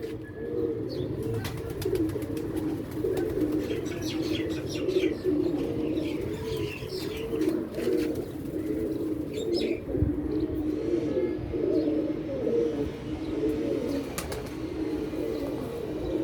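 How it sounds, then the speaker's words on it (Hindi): A pigeon coos repeatedly in low, throaty, rhythmic phrases close by, with faint chirps of other birds in the background and no talk. "दोस्तों यह कबूतर है।"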